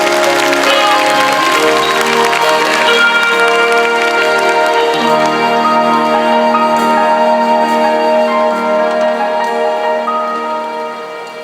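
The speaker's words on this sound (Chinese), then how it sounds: "再用你们最热情的掌声，给我们的孔锵老师大乐队尖叫掌声！" Dense, sustained applause from a large arena audience at a concert in Taipei Arena cheering a big band, loud and continuous throughout, fading slightly near the end.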